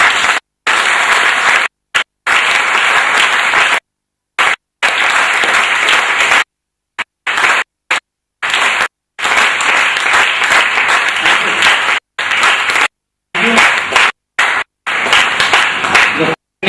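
An audience claps at a business training seminar, with loud bursts of applause broken by several short silent gaps.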